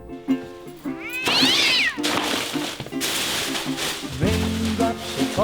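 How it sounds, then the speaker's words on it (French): A cat meows loudly in a drawn-out, rising and falling wail amid a scene in a French stage or film production, with other sounds and voices layered around it. "Putain, le chat!"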